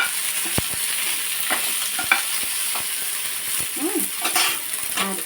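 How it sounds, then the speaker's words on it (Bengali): Chopped okra sizzles steadily in hot oil with cumin seeds as it is cooked for okra posto, a spoon repeatedly scraping and stirring through the pan with light clinks. "আর এই যে কেটে রাখা ঢ্যাঁড়স এটা এর মধ্যে দিয়ে দিলাম এটা ঢ্যাঁড়স পোস্ত হবে"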